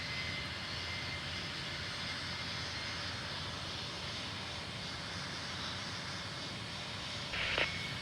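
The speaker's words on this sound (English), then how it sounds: "Nice little cool turbojet. First takeoff on runway 35 as well." A turbojet aircraft taking off on runway 35 at Salt Lake City in the game Tower Simulator 3, a sustained loud engine roar with a broad hiss, steady throughout, with a brief blip near the end.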